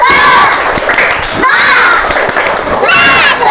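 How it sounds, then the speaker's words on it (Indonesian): A primary school class doing the 'tepuk semangat' spirit clap, many children chanting and shouting loudly in rhythm with thumping claps, in three bursts. "Tepuk semangat."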